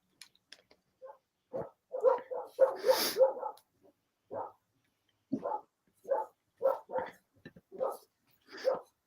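Several dogs bark in repeated bursts, moderately close and fairly faint, with some yips and whimpers scattered among the barks.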